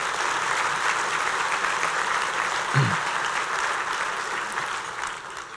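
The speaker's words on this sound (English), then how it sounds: "Let's give them a big round of applause," Steady applause from a large audience at a breakfast event, dense and even throughout, with one brief low thump near the middle.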